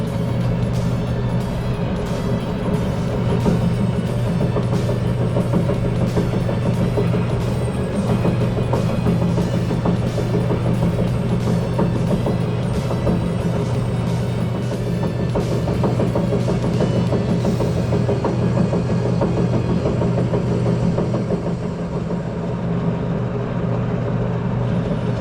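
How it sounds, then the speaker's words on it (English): A lathe machines a metal part, a steady loud mechanical drone and whir with a constant low hum that continues evenly throughout, close by. "All right, let's jump over the lathe."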